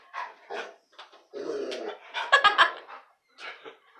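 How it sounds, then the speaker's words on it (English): A dog in the audience at a storytelling event barks and yips in short bursts, fairly close and clear, with whimpering sounds between the barks. "There's a dog in the audience today."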